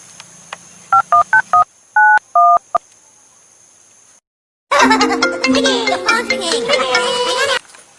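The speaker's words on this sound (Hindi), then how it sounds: "फोन लगाता हूँ" A quick run of telephone keypad dialing beeps, several short tones in uneven succession, followed after a pause by a loud, busy burst of music-like sound.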